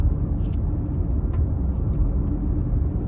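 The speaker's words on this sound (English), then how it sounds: "the winds are ripping right now" Strong storm winds near Springfield, Missouri, a loud continuous low roar and rumble buffeting close by, steady throughout with no talk.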